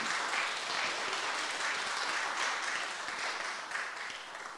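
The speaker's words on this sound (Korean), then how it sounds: "두 분 일어나시고 우리가 박수로 한번 행해드리도록 하겠습니다." Moderately quiet, steady clapping from an audience at a graduation ceremony, honoring two newly chosen class representatives, a continuous soft patter with no voices over it.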